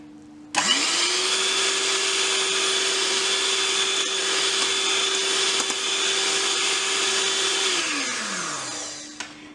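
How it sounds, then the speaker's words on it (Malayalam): Electric mixer whirring steadily while caramel pudding mixture with vanilla essence is blended, switching on abruptly, holding a constant loud hum for about seven seconds, then winding down as it is turned off. "അത് നന്നായിട്ട് മിക്സ് ചെയ്യാം"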